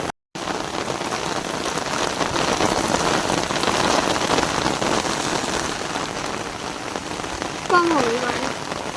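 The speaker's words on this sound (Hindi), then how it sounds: "कम हो गई बारिश।" Steady rain pours down outdoors, a dense, even hiss of drops hitting surfaces close by, continuing for several seconds with a brief faint voice near the end.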